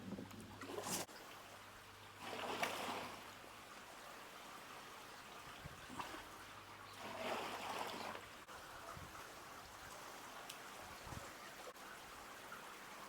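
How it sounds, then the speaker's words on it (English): Pond water is poured into a bowl beside a koi pond in a few separate splashing, trickling bursts, each a second or so long, with quieter outdoor background between them. "I'm just going to put some water into the bowl itself"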